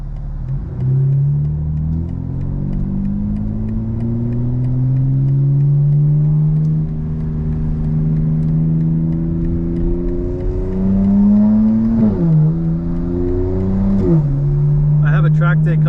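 A 2024 BMW M4 with its exhaust valves held fully open while driving through city streets: a loud, steady engine drone climbs slowly in pitch, with abrupt shifts near the end like gear changes.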